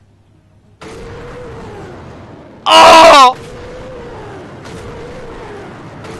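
A Panzerwerfer 42 rocket launcher in War Thunder fires with a loud, rising rocket screech lasting about half a second over a steady engine drone, while a man exclaims nearby.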